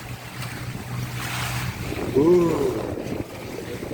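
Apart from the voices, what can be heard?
high sea waves and wind around a fishing boat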